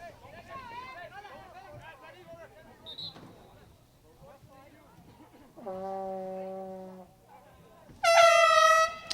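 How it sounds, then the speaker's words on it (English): Air horns blown by spectators at a high school boys' soccer quarterfinal, with two loud sustained blasts near the end over crowd chatter and commentary. "Oh, and the horns are out. Wow, air horns. You don't see that very often at soccer matches."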